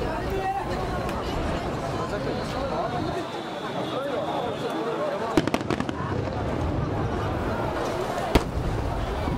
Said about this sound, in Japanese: 花火を満喫する。